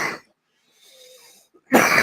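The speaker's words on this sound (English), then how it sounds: "Sorry, that's a smoker's cough." A harsh, rasping smoker's cough bursts out, then a faint wheezy breath in a lull, before another loud, rough cough erupts at the end.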